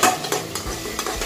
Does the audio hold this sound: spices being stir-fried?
yes